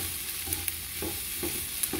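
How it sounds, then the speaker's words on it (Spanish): Onion caramelizing in a pan with melting butter gives a steady soft sizzle, broken by a few brief scraping stirs, close and fairly quiet with no talking. "Y aquí estoy todavía caramelizando la cebolla."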